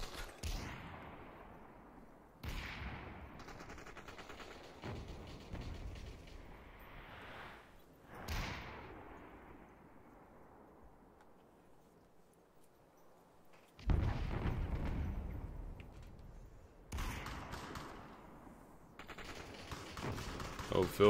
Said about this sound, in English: All 3 of them shooting Phil at the same time.